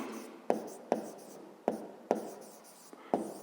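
A pen writes a maths expression on paper, making a series of short scratchy strokes with sharp tapping onsets at an uneven pace, close and fairly quiet, while a voice speaks faintly in the background.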